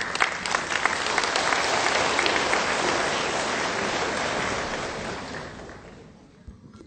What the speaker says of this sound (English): Give him another round of applause, folks.